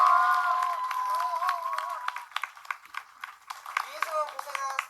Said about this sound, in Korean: 모든 배우들에게 박수!